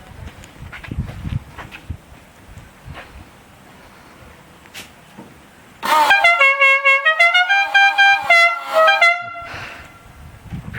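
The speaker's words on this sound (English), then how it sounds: "I put some air horns just for a bit of fun." Air horns fitted to an HQ Holden car blare in a loud, close series of rapid melodic toots for about three seconds after quiet background noise, then cut off.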